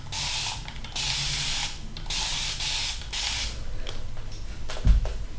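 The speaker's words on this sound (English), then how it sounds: "I'm just going to spray my hair because I feel it drying out right before my eyes." Several long hissing bursts of a spray bottle misting hair, each lasting about a second, with brief pauses and a faint thump near the end.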